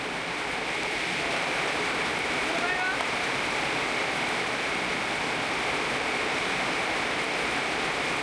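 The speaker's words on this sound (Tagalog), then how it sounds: "Pero palakas na palakas yung ulan." Heavy rain pours at a river campsite in Tarlac, a steady, dense hiss that stays loud and unbroken throughout, with voices faintly heard beneath it.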